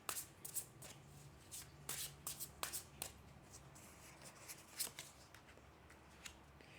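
Tarot cards are shuffled by hand close up, with a run of quick, soft riffling slaps and flicks in irregular bursts against a quiet room.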